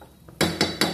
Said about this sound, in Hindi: बीच बीच में इसको हम चलाते रहेंगे